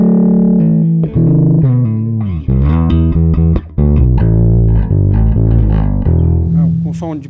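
Electric bass run through an Aguilar Tone Hammer preamp with distortion, playing a loud, saturated, sustained line of overdriven notes and slides with no talking.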